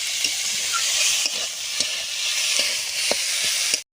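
Chickpea greens fry in mustard oil, a bright steady sizzle punctuated by rhythmic spatula scrapes and taps every half second or so, close up with no speech.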